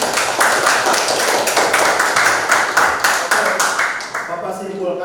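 A classroom of students claps together in a brisk burst of applause, close and loud, the sharp claps continuing for several seconds before tapering off near the end.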